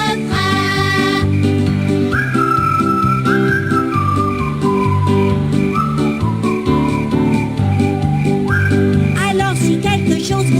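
Whistled melody lines rise over a dense, loud backing track in a children's song from the Reader Rabbit Kindergarten video game, with sliding whistle notes recurring through the clip and no spoken voice.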